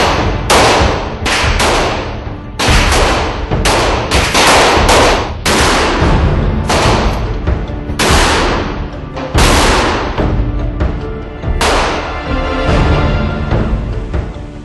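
Loud bursts of gunfire from the John Woo action game Stranglehold, heavy shots and rapid automatic volleys repeating in clusters with brief gaps, up close and continuous with no talk.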